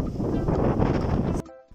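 Strong wind buffets a microphone outdoors while someone walks and waits for a ride, a loud rumbling roar that cuts off abruptly into near silence.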